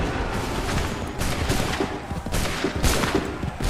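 Musket volleys fire on command in Assassin's Creed III, sounding as a continuous roar of massed gunfire with repeated crackling bursts, loud and close, with no pauses.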